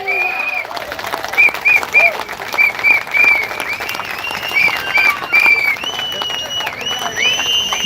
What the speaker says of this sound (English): give another round of applause for Riccardo